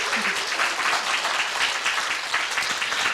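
A seated audience at a Korean business presentation breaks into sustained applause, a dense even wash of clapping that holds at steady volume for the whole stretch.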